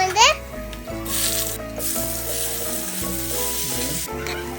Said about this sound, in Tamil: வெங்காயம், தக்காளி எல்லாம் போட்டு வதக்கிடணும்.